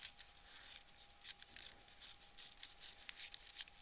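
Scissors snip paper in quick, soft repeated cuts, a dozen or so crisp little crunches in an uneven rhythm, quiet and close, trimming away extra paper around a painted sunflower with no one talking.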